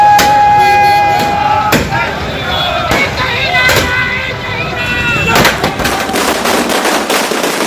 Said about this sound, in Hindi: अयोध्या में भूमि पूजन के बाद चूरू में भगवान राम के जयकारे लगाए गए और यहां आतिशबाजी भी की गई।